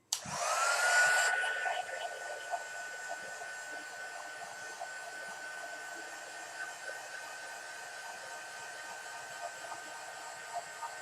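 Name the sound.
heat gun blowing to dry gesso paste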